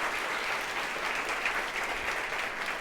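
A church congregation applauds steadily for a local councilman standing with his family, a dense, continuous wash of clapping from a crowd filling the room, no voices rising above it.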